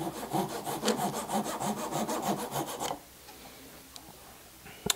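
A hand saw cuts off excess wood from a kumiko latticework piece in quick, steady rasping strokes, loud and close for about three seconds, then stops, leaving faint workshop quiet and a small tap.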